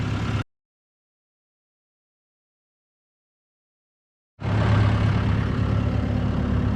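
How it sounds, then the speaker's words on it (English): A farm tractor's engine runs near and loud on a pasture before shredding, a steady low rumble that stops abruptly early on, leaving a long silence, then resumes just as strongly. "I'm gonna get on the tractor and do some shredding."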